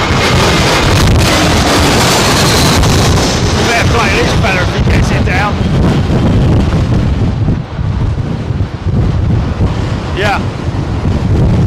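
Strong gusty wind from Storm Eunice roars loud and continuously, buffeting the microphone with heavy rumbling noise throughout.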